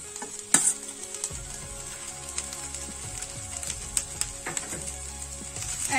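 Boiled cabbage leaves sizzle steadily in a hot pan while a utensil stirs and scrapes, with a few sharp clinks against the pan, close and continuous.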